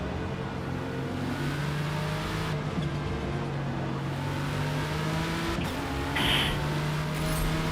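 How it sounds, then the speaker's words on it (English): A car engine in a racing video game drones steadily throughout, its pitch shifting slightly as it revs, with a constant, fairly loud tone and no talking. "The car sounds pretty much nothing like the real thing, which is nice."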